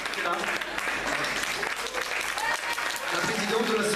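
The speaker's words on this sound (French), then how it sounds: "on les applaudit bien fort parce qu'ils étaient là" Sustained applause from a crowd, clapping loudly throughout while voices carry over it.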